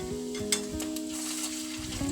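Salmon patties sizzle in a hot pan as they are flipped, a steady close frying crackle layered over a low hum, with a few soft scrapes and taps from the spatula.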